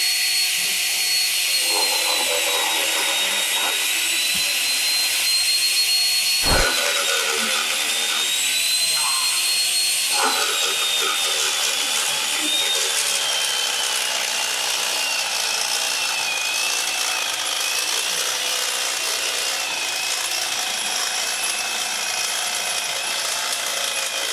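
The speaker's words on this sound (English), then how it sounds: "We just beveled that piece of pipe" A power tool bevels the end of a metal pipe with a steady, high, grinding whine that runs the whole time, with a brief knock early on and a faint voice underneath.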